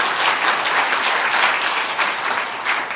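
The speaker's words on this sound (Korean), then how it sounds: "자, 저 두 기둥 위에서 박수 한번 크게" Congregation clapping during a Korean church evening service, a loud, continuous wash of applause from a large gathering, steady throughout with no talk over it.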